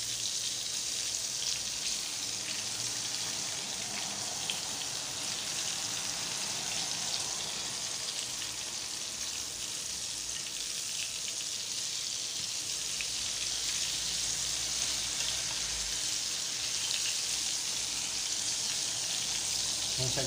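Chicken breast frying in hot oil, KFC-style homemade, a steady close sizzle and crackle that continues without pause, faint and even.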